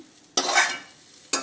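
Fenugreek leaves fry in a hot kadai while being stirred, giving two bursts of scraping, sizzling hiss, close and loud.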